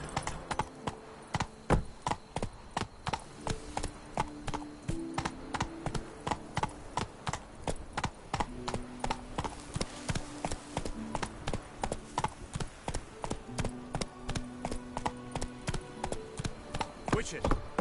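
Horse hooves clip-clop in a steady trotting rhythm in The Witcher 3, with soft game ambience underneath.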